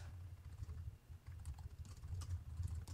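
Quick, soft clatter of keys as a name is typed on a computer keyboard, a short burst of taps over a low background hum.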